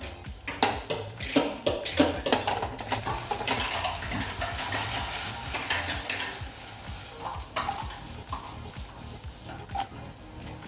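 Baby corn chilli tossed and stirred in a pan over a high flame, with repeated scraping and clinking strokes over a steady sizzle, close and fairly loud.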